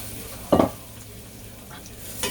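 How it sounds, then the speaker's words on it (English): Peppers and onions sauté in olive oil for an Italian sausage hero, sizzling softly in the pan with a sharp scrape of a utensil stirring near the start and another light stir at the end. "there goes my vegetables, peppers, onions, and I'm going to saute that"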